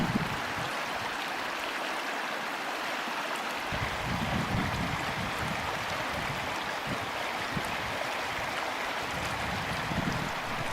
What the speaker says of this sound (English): We have to do a river crossing here.